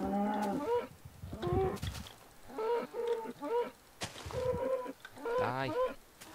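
Cow mooing in the Minecraft video game: several short, pitched moos in an irregular series, close and fairly loud, separated by brief pauses, with no talk.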